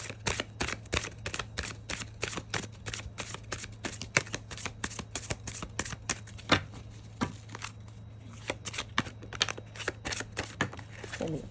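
A deck of tarot cards being shuffled without pause for more than ten seconds, a close, crisp stream of rapid riffling flicks and snaps over a steady low hum.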